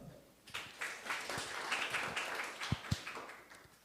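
An audience at a conference session applauds to welcome a speaker, a moderate wash of clapping that swells and thins over a few seconds.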